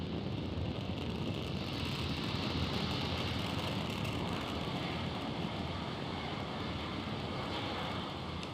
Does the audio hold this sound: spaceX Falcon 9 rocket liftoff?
yes